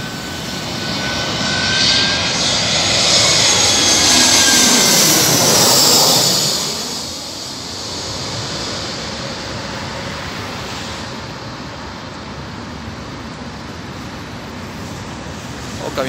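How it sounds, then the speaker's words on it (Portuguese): A jet airplane, a LATAM airliner landing at Porto Alegre Airport, roars past overhead, its engine swelling loud then fading into a steady distant rumble, with faint traffic noise beneath. "desceu o aviãozinho"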